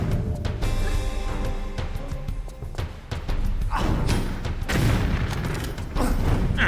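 Grenade explosions in the Tomb Raider 3 game, a series of heavy booms and thuds at irregular intervals amid loud game action, fairly close and forceful.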